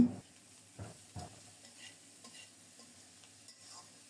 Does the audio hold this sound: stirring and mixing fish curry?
yes